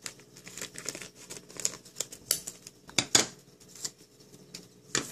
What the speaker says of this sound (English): And I'm going to use my scissors.